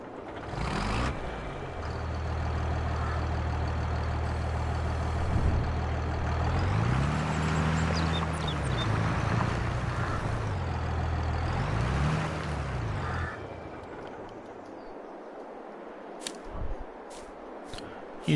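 Tractor engine in the farming video game Farming Simulator 22 drones steadily and loudly, with low harmonic rumble that rises and dips as it revs, then cuts to a quieter idle near the end with a few sharp clicks.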